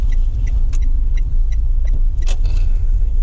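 A car engine idles low and steady as it creeps forward on the clutch with no gas, a continuous rumble under faint intermittent clicks.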